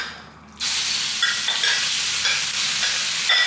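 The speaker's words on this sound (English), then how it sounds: "add a little bit of oil into our hot wok and add our chicken" Chicken hits hot oil in a wok with a sudden loud sizzle that settles into a steady, close frying hiss, with small crackles and pops throughout and no talking.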